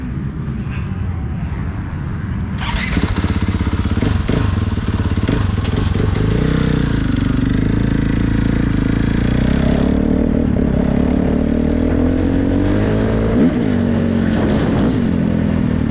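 Engine of a 2025 Gas Gas MC450 Factory Edition dirt bike with an FMF slip-on exhaust, running close and loud throughout, with rising and falling revs and sharp throttle blips over a steady rumble.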